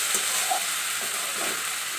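Thinly sliced ridge gourd and green chillies fry in a hot pan, giving a steady, close sizzle with a few soft scrapes of stirring, and no voices.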